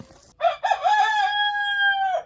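A rooster crows once, loud and close, a single long drawn-out call that rises and holds steady before breaking off, heard alone with no talk on a chicken farm.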